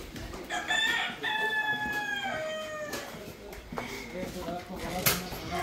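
Chickens of a desi free-range poultry farm in Pune, crowing and clucking from a pen, with several rooster crows and scattered clucks close by over a busy background of birds and faint voices.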